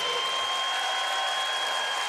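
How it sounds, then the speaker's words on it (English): Basketball crowd in an arena in Hartford, Connecticut, applauding after a free throw at a UConn game, a steady, even wash of clapping and cheering with no break. "The crowd showing their appreciation."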